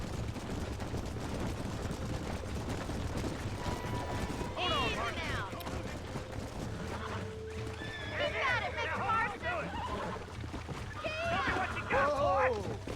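Wild horse in the Western video game Red Dead Redemption, with repeated shrill neighs and whinnies over clip-clopping hooves and a low droning background, the calls growing louder and more agitated toward the end.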